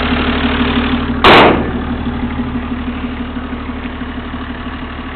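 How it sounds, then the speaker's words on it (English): A 1991 Toyota Land Cruiser diesel engine idling with a low, even rumble throughout, broken by one brief loud click near the start. "Car still running."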